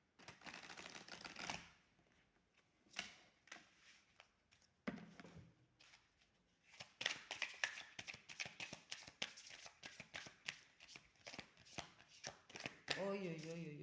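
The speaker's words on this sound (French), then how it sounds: "On va tirer 3 cartes de cet oracle." Oracle cards are shuffled by hand in quick riffling, flicking bursts, with a few pauses between rounds, close and fairly soft.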